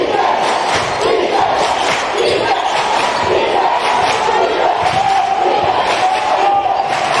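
A packed high school basketball crowd roars with energy in a gym during an Unaka versus Hampton game, a loud continuous wall of cheering and yelling with occasional thuds underneath.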